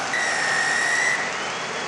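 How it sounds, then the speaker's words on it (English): A referee's whistle at half time in a France versus Wales Six Nations rugby match in 2017 sounds as one long, steady, shrill blast lasting about a second over a constant roar of stadium crowd noise. "Wayne Barnes blows his whistle."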